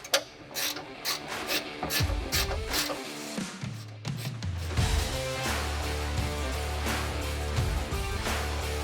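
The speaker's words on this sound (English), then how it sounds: "Now we're going to fully tighten our strut hardware." A ratchet tightens strut bolts on a Polaris RZR PRO XP trunk bed enclosure, giving rapid clicking bursts that settle into a steady, close mechanical whir with more clicking, with no talking.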